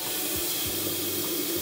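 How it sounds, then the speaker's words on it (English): Water runs from a kitchen tap into a Dualit kettle, a steady hissing stream with low gurgling pitch shifts as it fills, close and moderately quiet. "Let's fill it up with water."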